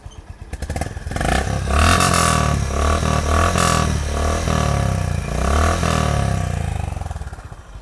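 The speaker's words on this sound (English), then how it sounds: "So here is the noise of the Highness CB350" A Honda H'Ness CB350 DLX Pro motorcycle starts, then its engine and exhaust thump in a loud, close, throaty idle broken by several blips of revving, with no talk.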